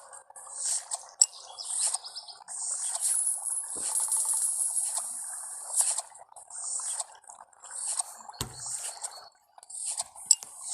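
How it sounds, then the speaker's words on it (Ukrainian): Birds chirp and twitter in a zombie survival video game, bright high calls repeating steadily across the scene at moderate level, broken by a couple of soft thumps and clicks. "Вон, пташки співають."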